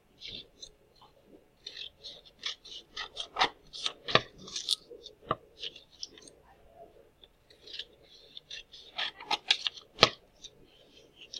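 Scissors snipping paper from edge to fold to make flaps, a run of close, crisp irregular cuts and rustles, some in quick bursts, with quiet pauses between.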